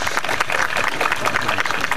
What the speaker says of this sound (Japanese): じゃあ皆さん盛大な拍手でまず応援してください。